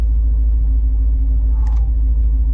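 A Chevrolet Caprice race car with a T56 gearbox drives hard on a track at Willow Springs, its engine a steady low rumble from inside the cabin, with a brief scraping clatter near the middle.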